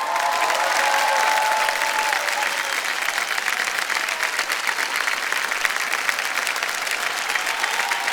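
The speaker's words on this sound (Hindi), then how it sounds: "तालियां बज जाए जोरदार।" Loud, sustained studio audience applause on a Hindi quiz game show set, a dense wash of clapping with some crowd noise that holds steady throughout and tapers only slightly.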